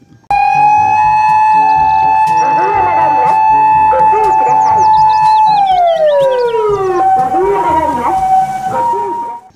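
A loud toy ambulance siren wails continuously, its electronic tone holding steady and then sliding downward in a repeating pattern.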